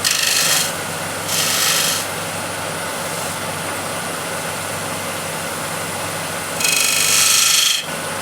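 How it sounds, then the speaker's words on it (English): Sandpaper rasps against a wooden piece spinning on a lathe, with bursts of bright hissing friction separated by a steady low motor hum; the passes come near and loud at the start and again near the end. "And sanding again."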